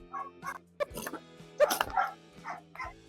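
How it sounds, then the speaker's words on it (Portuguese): A guard dog barks on command in a series of short, sharp barks and yips, close and fairly loud, spaced irregularly with brief quiet gaps between them. "ensinar o seu cão de guarda a latir sob comando"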